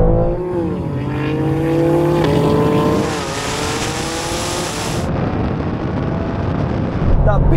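A 750-horsepower BMW M3 and a Porsche 911 Turbo S accelerate hard in a drag race, with a loud, close engine roar whose pitch climbs and then drops at each gear change.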